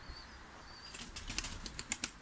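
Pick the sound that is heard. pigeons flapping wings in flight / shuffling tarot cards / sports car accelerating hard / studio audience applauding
pigeons flapping wings in flight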